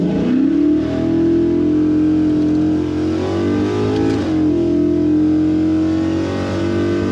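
Drag race car launching off the line from a 14-year-old's first racing season, with a loud sustained engine roar that climbs steadily in pitch, briefly dips as it shifts gear, then keeps pulling hard.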